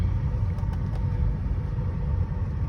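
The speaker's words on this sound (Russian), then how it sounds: "Ну что, как теперь звук от колес?" Steady low road rumble of a car's new tyres rolling on pavement in Argentina, continuous and fairly quiet, heard from inside the moving vehicle with no talking.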